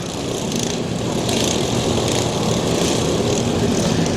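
Racing lawnmower engines roar continuously on a dirt track at a Bash for Cash 2011 lawnmower race, a dense, loud, steady buzzing drone with several machines running together and no speech.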